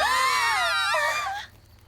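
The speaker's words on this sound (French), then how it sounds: "Elle se met à crier." A cartoon woman screams in fright, one loud wavering high-pitched cry lasting about a second and a half before cutting off to near silence.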